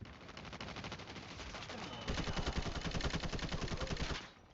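Rapid automatic gunfire from the video game Call of Duty Mobile rattles steadily throughout, growing louder and denser halfway in before cutting off near the end.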